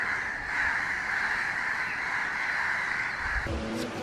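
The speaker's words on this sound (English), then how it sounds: "And the crows are going crazy." Crows caw in a residential tree in Kathmandu, Nepal, during a rainy spell. The calls run on as a steady, busy din for several seconds before breaking off near the end.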